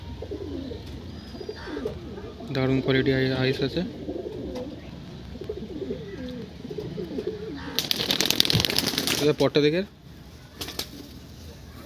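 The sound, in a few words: breeding pigeons cooing in a loft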